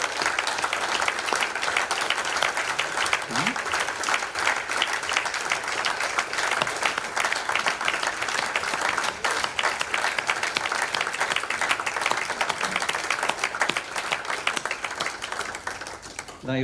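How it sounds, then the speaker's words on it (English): A large audience at an awards ceremony applauds continuously, a dense sustained wash of clapping that carries on steadily throughout, with a faint voice or two underneath. "can you give her a massive, sustained round of applause"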